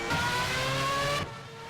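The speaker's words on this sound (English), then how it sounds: "That engine noise when you go to the third camera is pretty extreme." A race car engine in the racing video game Project CARS, at the Bathurst circuit, holds a loud, strained high-revving drone for over a second before it drops abruptly to a lower hum.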